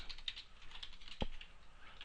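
Typing on a computer keyboard while coding a web app: soft, irregular key taps close to the mic, with one sharper thump midway, in a quiet room and no talking.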